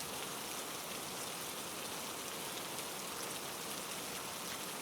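Steady rain falls without a break, a dense, even hiss of drops spattering on surfaces that stays at the same moderate loudness throughout, with no voices.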